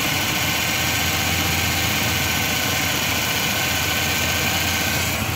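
Ford Ranger engine idling, a steady close rumble with a constant low hum and faint vibration that stays even and loud throughout, with no voices.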